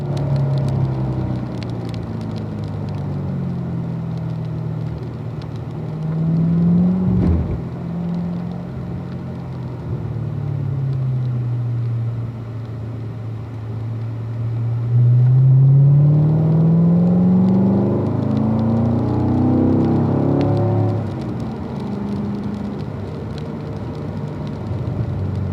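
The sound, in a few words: race car engine under throttle on track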